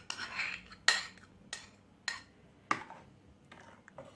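Utensil strokes scraping and clinking against a bowl while stirring a tahini, margarine and sugar filling, in about six distinct sharp scrapes spaced roughly half a second apart at moderate loudness, with no talk.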